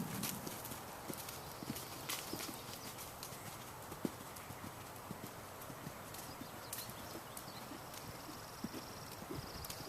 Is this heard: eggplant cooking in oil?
no